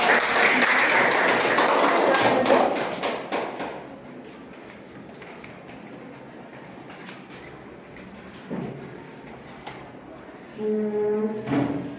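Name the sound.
classroom applause for a student group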